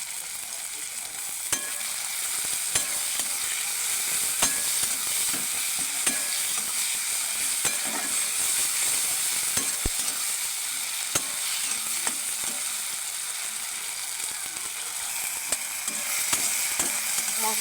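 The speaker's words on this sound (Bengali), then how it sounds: "মশলাটা ভালো করে ভাজা ভাজা হয়ে গেছে" Ginger-garlic paste masala frying in a pan with chopped tomato, a steady close sizzle with occasional sharp stirring scrapes and clicks throughout, no voices.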